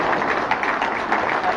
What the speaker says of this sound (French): On vous applaudit très fort, s'il vous plaît, mesdames et messieurs.